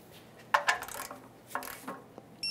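Metal drain plug being reinstalled in the oil pan of a 2003-2007 Honda Accord, making a few quick, close clinks and ticks of a tool on the plug over a quiet background.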